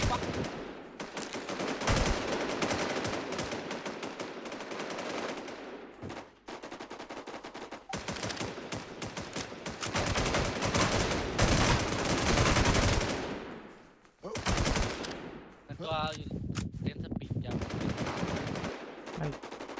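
Rapid automatic gunfire in the online shooter Warz Infestation crackles in long, dense bursts with brief gaps, loud and continuous throughout most of the stretch.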